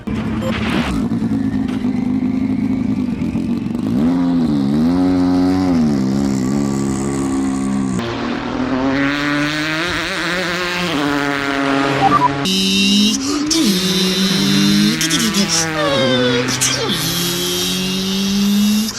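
Carrera 1/24 slot cars in an F1-style race on a track, heard as loud, high revving engine wails that climb and drop repeatedly through gear changes, close and continuous for the whole stretch with no voices.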